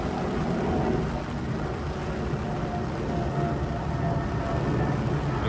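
Steady rain falls at a fishery lake, a dense, continuous hiss and patter with low rumbling underneath, unbroken and fairly loud throughout with no voices.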